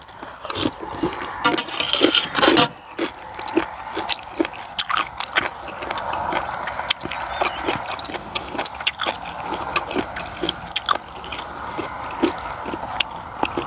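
Crisp crunching and biting of a crunchy, spicy Thai papaya-style salad dressed with fermented fish sauce, chewed close up in a steady run of sharp crackles over a low background.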